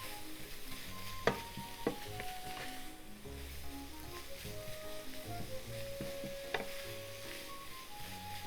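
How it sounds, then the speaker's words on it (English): Sliced carrot sizzles steadily in a hot pan over medium heat while a utensil stirs and scrapes, with a few sharper knocks against the pan standing out from the continuous frying hiss. "Turn the heat on and cook it over medium heat until the carrot is wilted."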